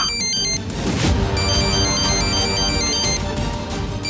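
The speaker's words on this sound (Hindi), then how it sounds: "अरे फिर से फोन आ गया।" A phone ringtone plays continuously as a steady electronic melody of repeating tones, loud and close, with a busy background underneath in a Hindi TV drama scene.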